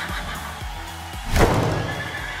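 A horse whinnies loudly once, a shrill rising cry over a soft rhythmic thudding of hooves.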